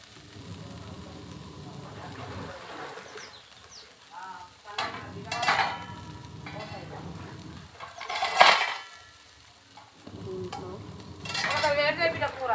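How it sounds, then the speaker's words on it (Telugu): Tomato pieces drop into a pan of half-cooked ivy gourd curry, setting off steady frying sizzle with stirring scrapes and a sharp hiss burst partway through, close and moderately loud. "టమాటో ముక్కలు వేస్తున్నా."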